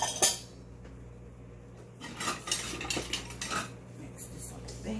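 Cornmeal and flour being combined in a bowl for a Jamaican cornmeal pudding cooked outdoors, heard as clinking spoon-and-bowl scrapes and taps that grow busier in the second half against a steady low hum.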